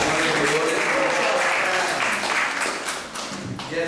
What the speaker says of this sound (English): let's give a round of applause for the wonderful